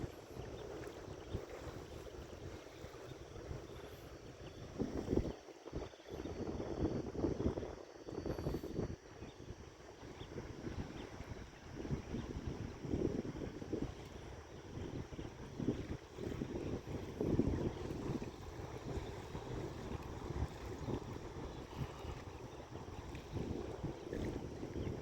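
Morning wind blows across a canal near the Mekong river, a steady rushing buffet against the microphone with occasional louder gusts and faint water movement around a boat, no speech.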